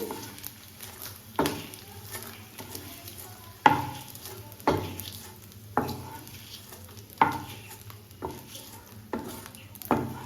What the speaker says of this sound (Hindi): इस तरह से कंटिन्यू चलाते हुए हम इसको धीमी धीमी आंच पर अच्छे से भून लेंगे